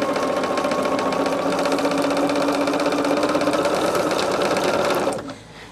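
Sewing machine stitching sashing onto a quilt at a quarter-inch seam, running steadily and loudly for about five seconds before stopping abruptly, leaving quiet room tone.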